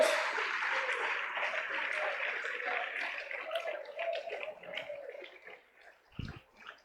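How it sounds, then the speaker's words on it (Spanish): A church congregation applauds, a dense steady clapping that gradually thins and fades toward the end, with a brief louder burst near the close. "Ese aplauso para Él."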